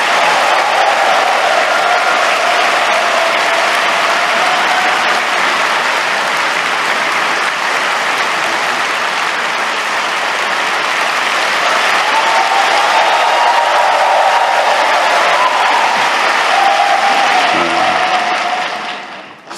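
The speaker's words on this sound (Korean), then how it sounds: "더 뜨거운 박수로 모시겠습니다" Sustained loud applause from a large Easter church congregation greeting President Lee Jae-myung, a dense steady roar of clapping lasting nearly twenty seconds before fading out at the end.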